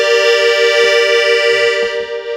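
A bellows-driven wind instrument with keys pressed gives a loud, sustained reedy tone rich in harmonics, held steadily for about two seconds before easing off.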